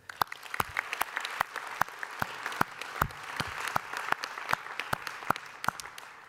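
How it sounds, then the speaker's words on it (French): Scattered, fairly sparse clapping from an audience at an award ceremony, individual claps distinct and irregular, moderately close and not especially loud, with no voices over it. "Je pense qu'on peut encore les applaudir."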